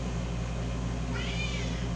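A cat gives a single drawn-out meow at moderate distance, rising and falling over a steady low background hum.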